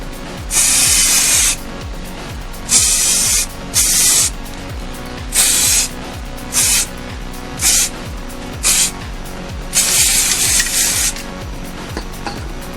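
Repeated bursts of spray lacquer hiss onto hair clippers being customised, about eight short blasts with pauses between them, close and loud, over a faint background rattle.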